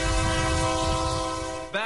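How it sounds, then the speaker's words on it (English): A train horn sounds in a long sustained blast over rumbling rail noise from a campaign train, cutting off abruptly near the end with a brief rise in rumble. "Back on the train, Fallin is taking a break between stops"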